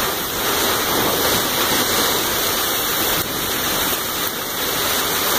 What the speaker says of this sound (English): The rain is just, well, we're getting a month's worth of rain right here in about an hour.